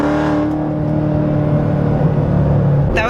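Supercharged Lingenfelter 720 2016 C7 Corvette Z06 accelerating on light throttle, a loud, steady engine drone with rising tones and supercharger whine building over a few seconds before a sharp burst at the end.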